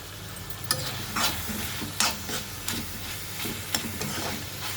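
Vegetables for a spicy dosakaya (yellow cucumber) chutney sizzle softly in a pan under a steady frying hiss, with a spoon scraping and stirring at a roughly even pace of about once a second.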